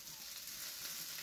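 Fish roasting in the embers of a wood fire gives a steady, soft sizzling hiss with faint crackle that holds evenly throughout at low volume, with no voices.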